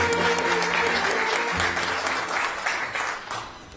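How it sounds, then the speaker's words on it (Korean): Audience applause fills a ceremony hall at the opening of the Ministry of Oceans and Fisheries' relocated office in Busan, a dense, steady clapping from a large crowd that fades slightly toward the end. "따뜻한 박수로 맞이해 주시기 바랍니다."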